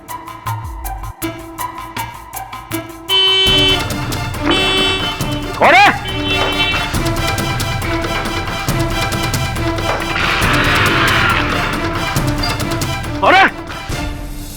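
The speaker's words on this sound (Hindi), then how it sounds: "बरोबर 3 बजे अपन को हॉर्न बजाने का है" Car horns honk in short blasts amid busy street noise, with people talking throughout and a couple of brief louder toots.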